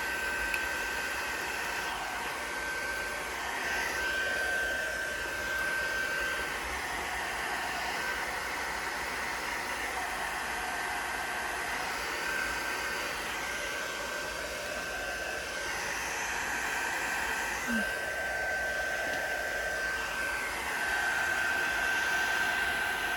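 Hair dryer blowing steadily for a long stretch while drying a fabric pocket, a constant whooshing hiss with a faint whine whose tone shifts slightly as the airflow is moved, with no talking.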